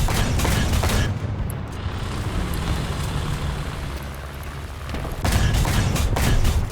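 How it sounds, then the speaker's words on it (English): Submachine gun fire in a War Thunder realistic battle involving a German Sd.Kfz. 6/2 anti-aircraft halftrack: dense rapid bursts at the start and end over a constant loud engine rumble, with no voices. "SMG fire"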